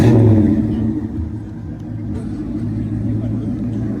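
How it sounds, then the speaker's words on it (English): A 1940 Mercury car engine running loud and close, starting in a heavy rumbling rev that eases into a steady low burble, with voices present over it. "1940 Mercury. That thing sounds amazing."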